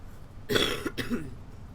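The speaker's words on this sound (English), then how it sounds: "got a bit of a cough at the moment" A single harsh cough bursts out close by, followed by a brief rough throaty rasp, with quiet room tone before and after.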